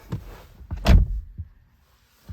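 A Porsche Macan's door is handled at close range: a soft click and rustle, then a firmer thump as it opens, followed by a brief quieter knock and a faint latch sound at the end.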